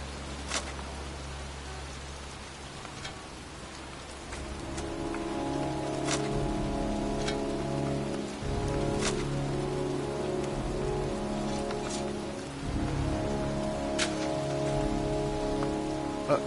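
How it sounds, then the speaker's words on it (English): Steady rain falling outdoors on a cold night, a dense, even patter with occasional heavier drops striking nearby surfaces, growing slightly louder partway through and continuing without pause. "It's raining."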